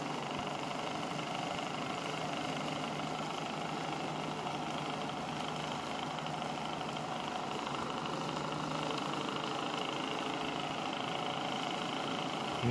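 A powerful three-stage BLDC motor runs on a 16-volt supply at 0.4 amps, giving a steady, unbroken whirring hum with a layered whine, close and even for the whole stretch, with no voices.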